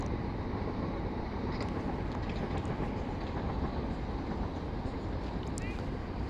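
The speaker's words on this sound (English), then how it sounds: "There's a southeastern train." A Southeastern train passes over a railway bridge in New Cross, London, producing a continuous broad rumble and rolling track noise. It sounds fairly close and stays loud and steady from start to finish.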